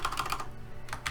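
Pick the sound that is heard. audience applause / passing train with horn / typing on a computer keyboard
typing on a computer keyboard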